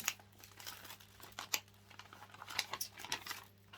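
Kraft paper handled on a craft table, producing soft crinkles, rustles and occasional sharper crackles in an irregular rhythm, close up and fairly quiet.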